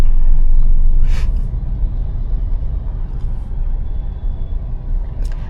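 Loud, steady rumble of road traffic at a busy junction, engines idling and passing, a brief hiss like an air brake near the start and another toward the end.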